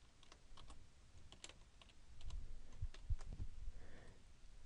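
Light typing on a computer keyboard, a quiet irregular patter of soft key clicks over faint low background rumble, with no talking.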